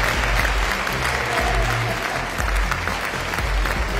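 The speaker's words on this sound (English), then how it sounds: "Everyone, a big round of applause." Audience applause at a movie event, a dense steady wash of clapping that fills the whole stretch at full loudness with no speech over it.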